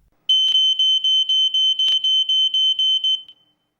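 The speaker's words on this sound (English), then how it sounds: "When the temperature level exceeds the 58 degrees Celsius threshold, the alarm will sound and the LED will be activated" An Ei 2110 multi-sensor smoke alarm sounding during a heat test: a loud, piercing, close electronic tone pulsing in a fast, even rhythm of about a dozen beeps, then cutting off.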